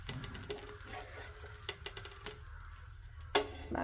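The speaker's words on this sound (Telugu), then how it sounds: "ఇంకా ఆమ్లెట్ కూడా వేసేసాను అనమాట." An omelette sizzles softly in a pan while a utensil scrapes and clinks against it now and then, close by and fairly quiet, with no talking.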